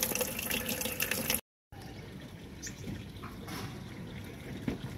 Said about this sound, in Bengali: ট্যাঙ্ক ভরে জল পড়ে যাচ্ছে